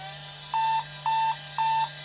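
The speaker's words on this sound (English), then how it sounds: "There's a couple of beeps." Three short, loud electronic beeps from a Compaq LTE 286 laptop at startup, evenly spaced about half a second apart, over a steady low electrical hum.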